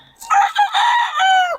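A rooster gives one loud, close crow, a full drawn-out cock-a-doodle-doo lasting over a second.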